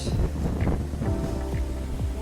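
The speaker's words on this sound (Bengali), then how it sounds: "প্রচন্ড বাতাস।" Strong wind gusting outdoors on a morning motorcycle ride, a loud steady roar buffeting the microphone across the whole stretch with no one talking.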